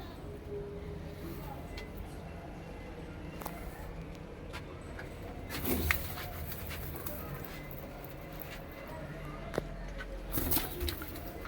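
Pigeons coo in a loft of high-quality Kalsre breeding pairs, soft and fairly distant, with occasional sharper bird sounds and handling noises over a steady background.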